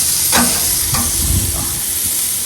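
Beef kebabs sizzling loudly in a hot pan while being turned, a steady close frying hiss broken by a few scraping strokes as they are moved.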